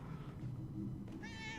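A cat meows in the video game Murdered: Soul Suspect, a short rising cry late in the moment over a steady low rumble of game ambience, close and clear.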